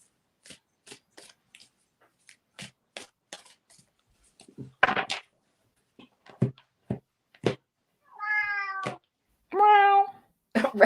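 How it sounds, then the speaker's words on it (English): A cat meows indoors with a dog in the house, giving two drawn-out, fairly loud meows near the end after a scatter of light taps and clicks. "My dog's going crazy because he thinks the cat's in the house."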